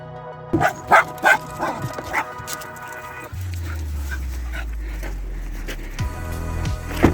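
Several sharp dog barks and yips ring out near the start on a beach in Ninilchik, Alaska, followed by a low steady rumble like wind or engine noise with a few faint sounds.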